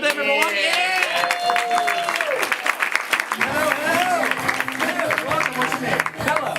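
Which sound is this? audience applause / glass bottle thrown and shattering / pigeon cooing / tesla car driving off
audience applause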